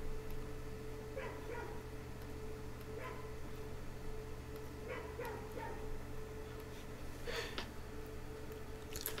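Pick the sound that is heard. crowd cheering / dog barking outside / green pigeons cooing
dog barking outside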